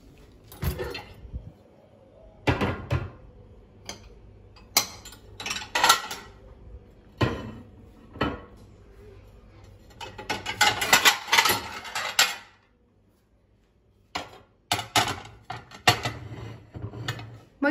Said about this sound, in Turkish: Makineyi boşalttım.